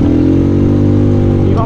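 A Vento Storm 250 motorcycle engine drones loud and close at a steady cruising speed in second gear around 20 km/h, its deep even hum holding without pause.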